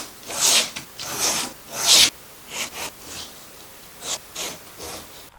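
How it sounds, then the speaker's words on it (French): Scissors cut through fabric for a sewing pattern, a series of short, close rasping snips in uneven bursts, with quiet gaps between strokes. "Je passe à la découpe."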